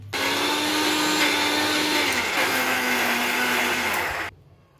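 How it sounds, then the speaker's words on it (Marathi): A kitchen mixer grinder coarsely grinds onion and garlic in one continuous loud whirring run of about four seconds, its motor pitch dipping slightly midway before it cuts off abruptly, with no speech. "आता कांदा आणि लसूण जे आहे ते आपण बारीक वाटून घेऊ, जास्त बारीक नाही वाटायचं, जाडसरच वाटून घ्यायचं"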